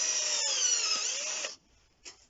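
A power drill bores into a lead, a bright whining grind for about a second and a half that stops abruptly, followed by a short scrape.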